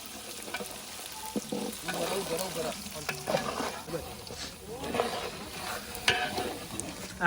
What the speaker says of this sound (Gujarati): હવે આપણે વઘાર કરવા જઈ રહ્યા છીએ આ છે આખા મરચા આખા મસાલા